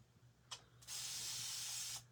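A spray bottle filled with distilled water gives a short puff, then one longer hissing squirt, both close and soft, with no voices.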